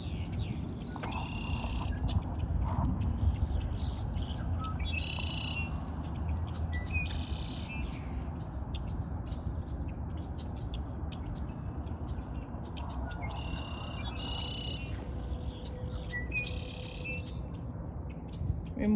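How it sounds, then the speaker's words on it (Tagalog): Small birds chirp in quick clusters of tweets at Millwoods Park, recurring every few seconds at moderate distance over a constant outdoor hum. "May mga ito rin ng ibon dito guys."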